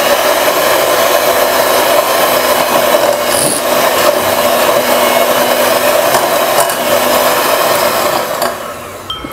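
Wheat flour cookie batter being whisked with milk, a steady continuous scraping and rubbing that runs close and unbroken for the whole stretch with no talk.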